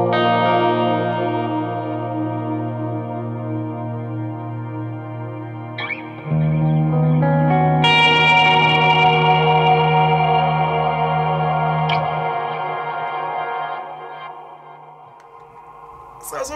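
Electric guitar played through an amp with a drive pedal, sustained distorted chords and ringing notes with echo and reverb, fairly loud and steady, changing voicing partway and fading toward the end.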